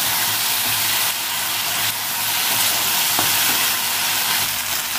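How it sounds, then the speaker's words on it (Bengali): Ginger paste fries in hot oil for a Bengali potato, pointed gourd and prawn curry, giving a loud, continuous close-up sizzle with no voices over it. "ভালো করে ভেজে নিয়েছি আদা দিয়ে।"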